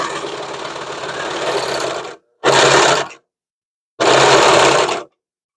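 A sewing machine without an on-off switch runs loud and steady for about two seconds, then gives two more short bursts separated by pauses, with nobody speaking.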